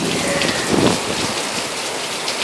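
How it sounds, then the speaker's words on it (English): Steady rain pours down during a flash summer thunderstorm in Houston, soaking a balcony and its potted avocado plant with a dense, continuous hiss that stays close and even throughout, with no voices. "It hasn't been raining for 1 minute"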